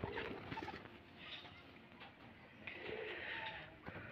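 Pigeons coo repeatedly at a Rajshahi Giribaj pigeon loft, a steady low murmur layered with other birds and faint background noise.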